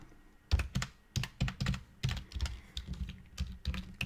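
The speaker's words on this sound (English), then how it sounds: "And then I'll type leadership here." Steady typing on a computer keyboard, close and clear, with irregular bursts of key clicks continuing throughout.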